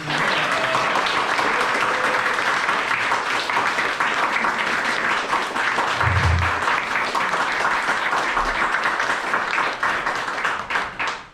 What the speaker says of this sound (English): let's have a round of applause for Tina